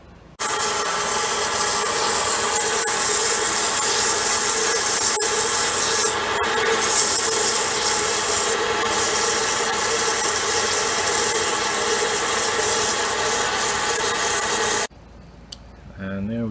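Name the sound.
band saw cutting a 4140 steel bar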